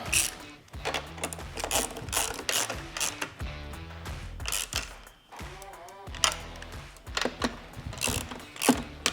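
A ratchet clicks in rapid bursts up close, pausing between strokes, as a bolt is tightened on a Harley-Davidson motorcycle tie-down bracket near the fairing.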